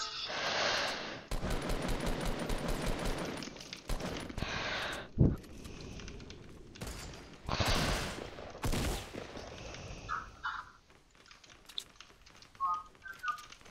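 Rapid bursts of automatic gunfire in a shooter video game, coming in several loud volleys with short gaps, mixed with game effects and quieter stretches.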